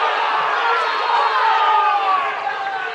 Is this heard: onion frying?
no